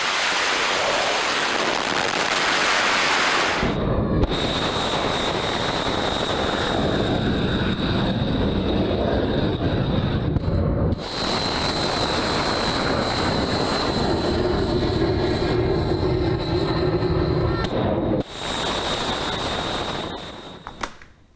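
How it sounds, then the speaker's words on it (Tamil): Military warplanes roar during a US strike on Iranian positions, a loud, continuous engine rush broken by a few abrupt cuts between segments. No one speaks. "போர் விமானங்கள், போர்க்கப்பல்கள், ட்ரோன்கள் மூலம் ஈரான் இராணுவ நிலைகளை அழித்த வீடியோவை அமெரிக்க இராணுவம் வெளியிட்டிருக்காங்க."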